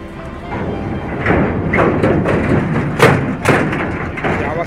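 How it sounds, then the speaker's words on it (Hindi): A vehicle crossing the old bridge near Namsik between Assam and Arunachal, heavy thuds and a rattling clatter from the deck repeating unevenly, loud and close, with a voice talking over it. "आवाज़ करता है गाड़ी जाने से"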